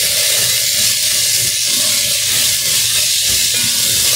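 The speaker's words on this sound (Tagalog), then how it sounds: "Igisa natin ang ating ahos." Garlic sautéing in a hot pan with onions, giving a loud, steady, close sizzle and hiss that runs unbroken throughout, with no voices.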